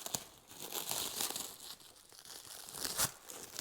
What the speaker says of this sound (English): let me get plastic off this